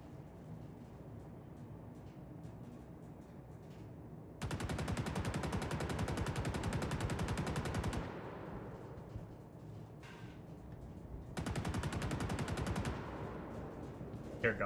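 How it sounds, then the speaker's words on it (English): Video game gunfire in a salvage or bunker mission, heard as two sustained bursts of rapid automatic shots, loud and dense, separated by a quieter stretch of low background rumble. "Hear gunshots."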